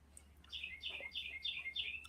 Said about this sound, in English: When the bird outside of my window said yes.